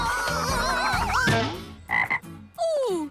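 Cartoon frog croaking in a swamp-themed contest scene, several warbling, pitch-sliding croaks in quick succession, loud and close, with bursts separated by brief pauses and no talking.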